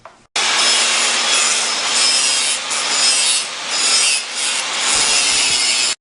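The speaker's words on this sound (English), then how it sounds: "That looks like it's out of a pipe notcher, but it's from a grinder." An angle grinder notches a roll cage tube for a 1966 Mustang: a loud, close, continuous abrasive grinding that swells and dips in steady waves as the tool is rocked back and forth, with no voices.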